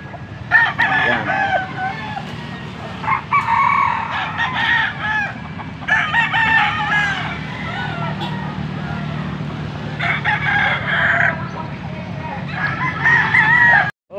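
Roosters crow repeatedly at a live chicken market in Pampanga, loud overlapping cock-a-doodle-doos rising every few seconds over a steady outdoor crowd and traffic hum.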